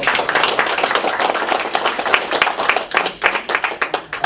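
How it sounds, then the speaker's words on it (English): Audience clapping after a talk and question session, a dense burst of many hands that keeps going for several seconds before thinning into scattered claps at the end. "Let's give it a round of applause."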